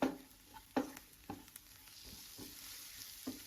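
Ginger garlic paste sautéing in a pan for paneer gravy, with a soft steady sizzle broken by several sharp spoon scrapes and stirs, close by and alone.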